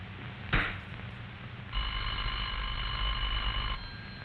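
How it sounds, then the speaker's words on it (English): A steady electronic telephone ring tone sounds evenly for a couple of seconds after a short click, over a low hum. "You'll hear a clear, evenly spaced ring"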